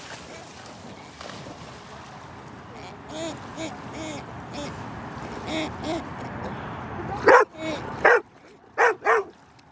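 A dog barks and yips amid a voice talking in a room, the barks growing into several loud, sharp bursts close by near the end.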